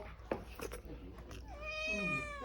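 Cat meowing close by in a home, a drawn-out tonal meow near the end after some soft clatter and indistinct sounds.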